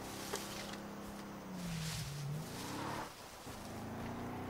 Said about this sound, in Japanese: 車の音も聞こえる。